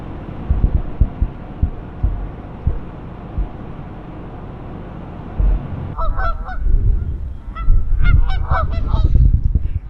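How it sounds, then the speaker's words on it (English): Canada geese honking beside the Niagara River in winter, several calls clustered in the second half over steady low rumble and wind from the riverside. "There's quite a few Canada geese that you see there that stay here all year"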